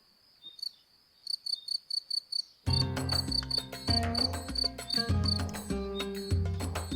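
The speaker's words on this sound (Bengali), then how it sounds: "ঝিঝি পোকার ডাক।" Crickets chirp in a dense, foggy, dark jungle in a cartoon: a few sparse high trills at first, then a steady insect chorus joined by a low, loud, swelling ambient drone.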